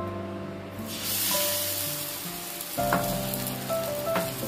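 Batter poured by the ladleful into a hot pan with a little oil, giving a loud, steady sizzle and crackle of frying that swells as the batter hits the pan, with faint scraping under it.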